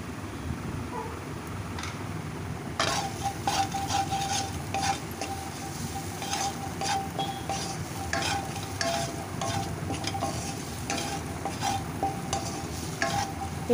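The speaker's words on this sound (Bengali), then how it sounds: "বেশ নাড়াচাড়া করে নিয়ে ভেজে নিচ্ছি আরও কিছুক্ষণ।" Hog plums (amra) fry in a pan for a chutney while a spatula stirs them; a continuous oily sizzle runs underneath repeated scraping and clattering strokes, close and fairly loud, with no talking.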